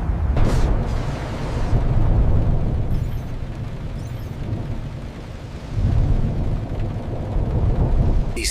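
A thunderstorm on a distant planet, a loud continuous roar of deep rumbling thunder with swelling surges and a dense rain-like wash, heard alone without speech.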